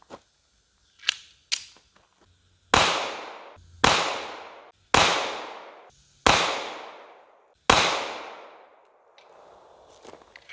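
Smith & Wesson Bodyguard 2.0 pistol firing 95 grain defensive hollow point rounds, five loud sharp shots at roughly one-second intervals, each with a ringing decay, preceded by handling clicks and followed by quiet rustle.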